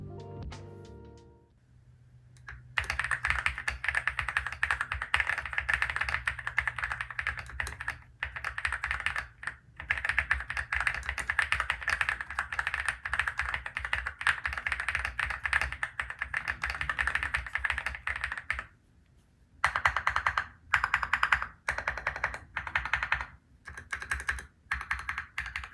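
Rapid, steady typing on a budget mechanical keyboard, close and clear, a continuous clatter of keystrokes with a couple of brief pauses near the end and no voices.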